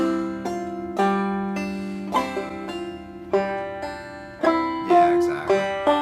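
A five-string banjo is played clawhammer style: a plucked third-string note with a pull-off, then a brushed strum. The bright, twangy notes ring out one after another at a steady, unhurried pace, close and alone.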